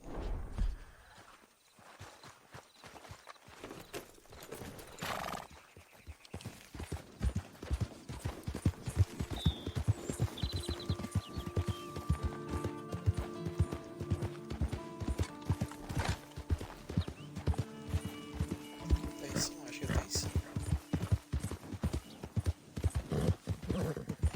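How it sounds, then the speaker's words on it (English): A horse in the video game Red Dead Redemption 2 clip-clops along in a fast, steady rhythm of hoofbeats, with a brief whinny and background game sounds, and nobody speaking. "Vou pegar o cavalo aqui."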